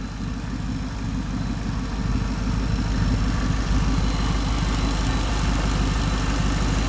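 A Factory Five 1933 Ford roadster hot rod with a supercharged V8 and polished stainless MagnaFlow exhaust runs at a steady, loud, close idle, a dense low rumble with rapid lumpy pulses growing slightly louder.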